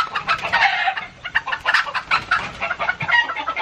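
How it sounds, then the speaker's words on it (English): A flock of chickens clucking loudly and excitedly, overlapping squawks and cackles close by in quick irregular bursts with brief dips between them. "these chickens, they're insane"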